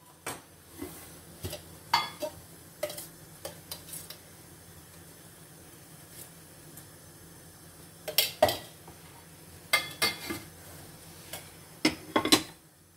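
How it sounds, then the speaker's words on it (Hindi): Ghee going into a kadhai over a lit gas flame for making sabudana khichdi, heard as scattered sharp metallic clinks and spoon taps against the pan over a faint low hiss, with longer quiet gaps between. "अब मैं सबसे पहले कढ़ाई के नीचे गैस जलाकर 2 चम्मच घी डालूँगी।"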